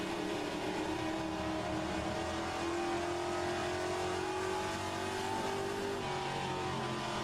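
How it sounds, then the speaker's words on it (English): Race car engine in the HRSC Trans Am racing game, roaring continuously and loudly at high revs with shifting pitch throughout, alone without talk. "of that beautiful noise when I'm not talking"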